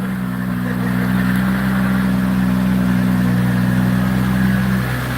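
A 2,000-horsepower car engine holds a loud, steady, deep drone at close range. The tone shifts slightly near the end.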